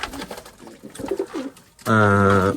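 A loud, sustained pigeon coo with rich low harmonics follows a stretch of softer rustling and faint bird chatter.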